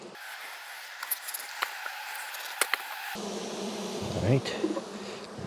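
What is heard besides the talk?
bees buzzing around beehive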